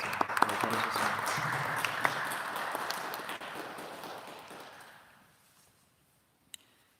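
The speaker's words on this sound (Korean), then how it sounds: "이 시간 우리 박춘식 성도님 오셨는데 우리 박수로 우리 환영드리겠습니다." A church congregation at a Sunday worship service breaks into warm, crowded applause to welcome a member, the clapping holding for several seconds before fading into near silence, with one last isolated clap.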